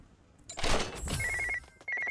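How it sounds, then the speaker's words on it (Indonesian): A phone rings in the mobile game Metal Slug: Awakening with short bursts of a high electronic trill. They follow a brief whoosh of game sound and there is no talking. "kita jawab dulu ada telepon masuk"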